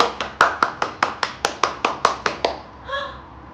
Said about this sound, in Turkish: Anneye alkış yapalım.